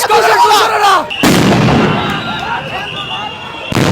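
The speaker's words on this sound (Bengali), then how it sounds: "পুলিশ কিন্তু কয়েকটি সাউন্ড গ্রেনেড ছুটিয়েছেন" Police sound grenades blast at a student protest outside the Secretariat, two or three loud sharp bangs with rumbling decay, close and heavy, amid crowd noise and shouting voices.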